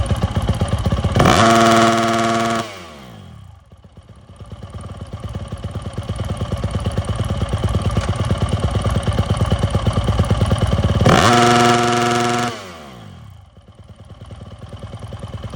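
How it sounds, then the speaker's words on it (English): A motocross bike fitted with an FMF silencer revs hard twice during an AMA sound test in San Diego. The bike idles and clatters steadily between the two loud, rising bursts. "He's got his FMF silencer on. Got to be under a certain decibel level."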